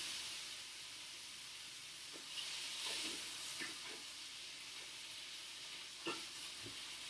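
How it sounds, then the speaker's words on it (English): Garlic sauteing in a pan with salt, a steady close sizzle and hiss with scattered small pops and stirring scrapes throughout. "we're going to saute"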